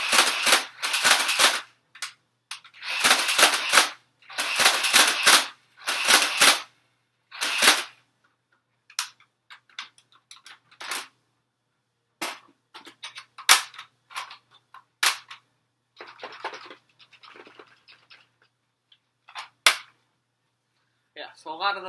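A Nerf Stampede ECS blaster fires darts in a burst of sharp, loud pops with a motorized whir, followed by sparser clicks and rattles, with talking in between.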